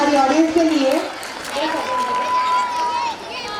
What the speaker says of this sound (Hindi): जोरदार तालियां हो जाए इनके लिए, हमारी ऑडियंस के लिए